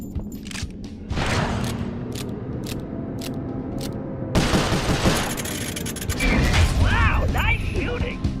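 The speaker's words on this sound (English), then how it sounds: "Wow, nice shooting!" Rapid bursts of gunfire from the Sly Cooper video game crackle amid mechanical clatter and game effects, growing denser and louder in the second half.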